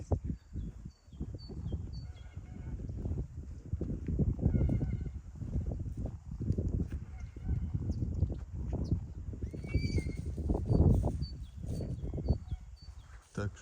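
Ardennes, Belgian and Percheron draft foals for sale on a farm in Ivano-Frankivsk region, heard as faint scattered hoof shuffles and occasional distant whinnies beneath steady talk.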